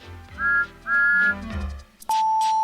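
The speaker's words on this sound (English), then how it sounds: "Thomas always whistles peep peep in return" Thomas the Tank Engine's steam whistle gives two short, clear peeps, followed by a longer sustained whistle tone, all over a soft rumbling background.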